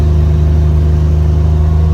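A Buick Grand National's engine runs steadily under throttle with a strong low, even drone and a constant loud hum, showing no clear rise in pitch.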